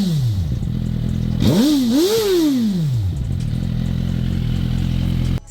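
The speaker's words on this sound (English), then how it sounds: "In terms of sound, let me turn on the bike. You will hear the sound." A Suzuki GSX-R motorcycle engine fires up and runs close by, a steady idle broken by a couple of quick revs that rise and fall before it settles back to a constant rumble.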